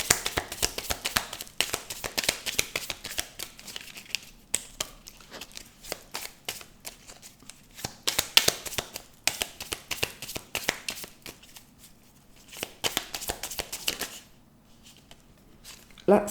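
Tarot cards shuffled by hand in repeated bursts of rapid riffling and flicking, with brief pauses between rounds, close and fairly quiet.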